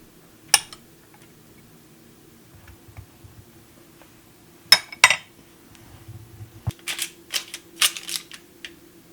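Knife clicks and clacks against a board while a butternut squash is halved and its seeds scooped out, with a few sharp knocks early on and a burst of scraping taps near the end, close and fairly quiet.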